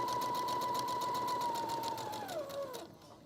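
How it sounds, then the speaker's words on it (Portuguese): A domestic sewing machine runs steadily at speed while stitching fabric, then briefly slows and changes pitch as it backstitches to lock the end of a seam, stopping after about three seconds. "E faço um arrematezinho aqui com a minha máquina."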